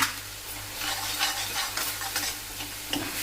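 Garlic and ginger paste sizzles and fries in a pan while a spoon stirs it, giving a steady close crackle with light scraping and the odd clink.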